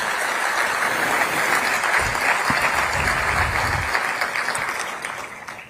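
An indoor audience at a launch event applauds steadily to welcome a singer, a dense wash of clapping that tapers off toward the end.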